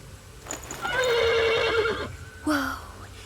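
A horse whinnies loudly and close by in a long quavering neigh, then gives a shorter second whinny, with faint hoof movement underneath.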